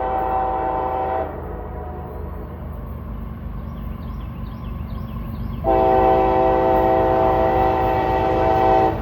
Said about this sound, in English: we got a loaded grain train coming